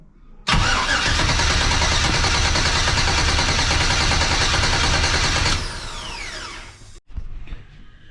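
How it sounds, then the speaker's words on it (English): A car engine with its fuel pump unplugged cranks steadily for about five seconds, the starter whirring loud and continuous without catching, then winds down and cuts off abruptly. "I'm going to turn it over with a push button inside the car."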